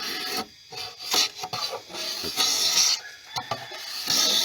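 Bamboo outer skin being scraped off with a blade, a close, repeated rasping and scratching in uneven strokes, with brief pauses between passes and no talk.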